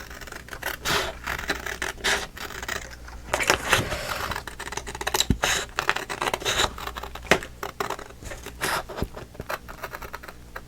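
Scissors snipping out a paper piece for a vintage Christmas mini album, a steady run of close, crisp cuts and paper rustles over about ten seconds with no talking.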